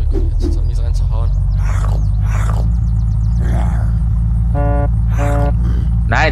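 A car in the zombie survival game Unturned drives with a constant loud low engine drone, while someone talks over it and horn-like tones and growls break in now and then.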